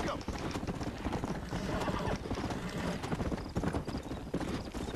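Steady clip-clop of horse hooves in the video game Red Dead Redemption, at a brisk, continuous gait, with a speaking voice faintly underneath.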